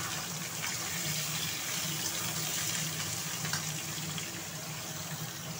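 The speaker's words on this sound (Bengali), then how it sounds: "এখন আমি পটলগুলো ঢালছি।" Pieces of pointed gourd go into a pan of oil where fried potatoes have just been cooked with turmeric, giving a steady soft sizzling hiss, fairly quiet with no speech.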